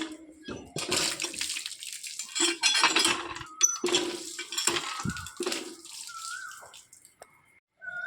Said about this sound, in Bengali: এদিকে মেয়ের জন্য জল উঠায় রাখছি